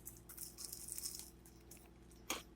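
Bite into a crispy Chinese-style takeout chicken wing, giving brief crunching and tearing near the mouth, then one sharper crunch near the end.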